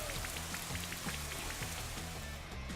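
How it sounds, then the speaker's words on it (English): A Rain Dance weather effect from the Pokemon Shield video game patters steadily like a continuous shower of rain, layered over a rhythmic, repeating game music loop. "Here comes the rain."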